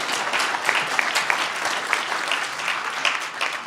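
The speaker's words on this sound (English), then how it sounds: "Let's give a big cheer for the 20-year club." Sustained applause from an audience at a community consultation meeting on a flood protection project, steady dense clapping with a few sharper claps standing out, filling the whole stretch without any speech.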